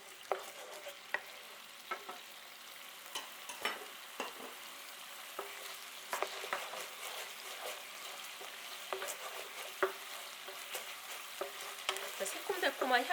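A sugar and soy-based sauce being gently stirred with a spatula in a pan over medium heat, giving a continuous soft sizzle with frequent scraping and clicking strokes, fairly quiet and close.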